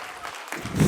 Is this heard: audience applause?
yes